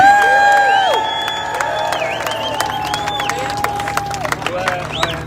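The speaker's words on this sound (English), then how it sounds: "I want you, in a big hand of applause, we have Mr. Boris Epstein!" A Miami rally crowd claps and cheers as a guest is introduced, loud and sustained, with shouts, whistles and excited voices rising over the ongoing applause.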